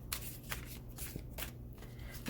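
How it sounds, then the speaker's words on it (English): Tarot cards being shuffled by hand, a quiet series of crisp riffling bursts in an uneven rhythm, close up with no talking. "The cards are starting to give me trouble, like even just like this shuffle is being unruly"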